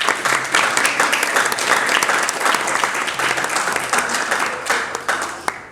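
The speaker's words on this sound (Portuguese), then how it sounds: "Uma salva de palmas para todos vocês." Sustained audience applause at a live podcast event, dense rapid clapping from many hands at close range, steady and loud for nearly six seconds before tapering slightly at the end.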